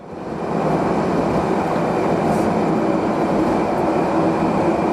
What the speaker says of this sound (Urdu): صدر اردوان نے ٹرین کی ڈرائیونگ سیٹ خود سنبھالی اور نئے ٹریک پر پہلے سفر کا آغاز کیا